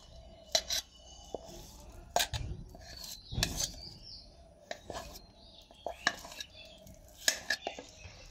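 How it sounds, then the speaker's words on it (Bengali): A knife chops boiled potatoes into small pieces on a board, giving sparse, quiet, irregular taps and clicks with soft kitchen clatter between them. "আলুগুলোকে ছোট ছোট করে কেটে দিচ্ছি, তাহলে মিক্সিতে বেটে নিতে সুবিধা হবে"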